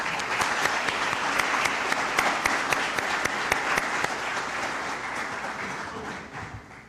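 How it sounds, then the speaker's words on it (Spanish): Warm, steady applause from an audience at a juvenile justice training session in a hall, a continuous patter of many clapping hands with a few sharp individual claps standing out, slowly easing toward the end. "con un fuerte y cálido aplauso"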